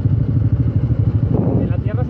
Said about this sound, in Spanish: el sonido del motor, el ambiente que se crea aquí, es muy disfrutable